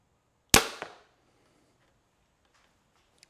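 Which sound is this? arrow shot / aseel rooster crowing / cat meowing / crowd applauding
arrow shot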